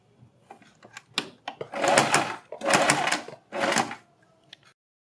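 A sewing machine stitches a neck strip on a kurti in three short bursts, each about a second long, nearby and fairly loud, with quieter handling clicks between them.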